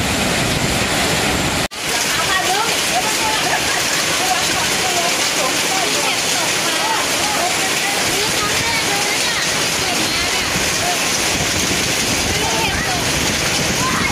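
Heavy rain and hail pour down with strong wind in Sung Noen, Thailand, a dense, continuous roar, close and loud, with a brief break in the sound near the start.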